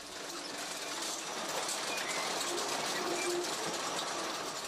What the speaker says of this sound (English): a high-tech machine which carves its way through the earth